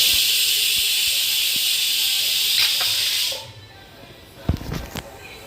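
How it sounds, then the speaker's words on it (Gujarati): A pot of Gujarati dal boils with a steady, close hissing like escaping steam. After about three seconds the hiss drops away, leaving a quieter background broken by a few clattering knocks. "તમે જોઈ શકો છો કે આપણી દાળ ઉકળી ગઈ છે"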